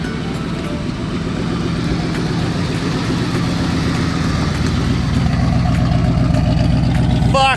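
A 1979 car engine idles steadily after being fired up on a freshly charged battery, a close, continuous low rumble with a regular pulsing beat that holds alone throughout.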